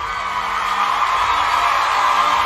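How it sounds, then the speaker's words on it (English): A crowd whoops and cheers for Raugen in one continuous, loud wall of voices that swells slightly toward the end. "Everyone give a round of applause for Raugen."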